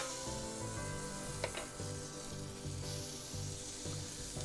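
Filet mignon steaks sizzle over high heat, around 550 degrees, on a Weber Traveler grill with bacon fat, giving a steady close crackle and hiss with faint scraping, no talk.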